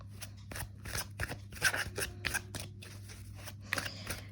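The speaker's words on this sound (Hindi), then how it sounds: "हम एक एक कार्ड निकालेंगे मंडे टू संडे तक के लिए।" Tarot cards are shuffled and drawn by hand, giving a string of quick papery flicks and snaps at close range over a steady low electrical hum, with no talking.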